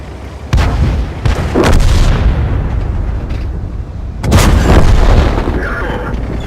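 Tank cannon fire in the World of Tanks game from an A-44, two heavy booming shots with rumbling decay, loud and close.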